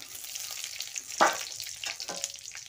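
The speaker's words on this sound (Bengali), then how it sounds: "কড়াইতে একটু তেল দিয়ে দিলাম, একটু 5 ফোড়ন দিলাম," Panch phoron spices frying in oil in a wok give a quiet steady sizzle, broken by a couple of sharp scraping stirs, with no one speaking.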